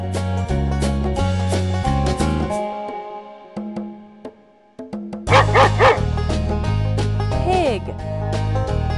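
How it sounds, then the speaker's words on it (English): A dog barking within a playful farm-animal sound stacking game, yipping barks over a layered musical backing of repeating tones, loud and close throughout. "Dog."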